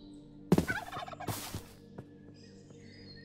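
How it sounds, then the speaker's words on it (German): In the Minecraft modpack RLCraft, a turkey lets out a loud rattling gobble, followed by quieter scattered game sounds and a faint ambient tone. "Kugelhuhn, Truthahn."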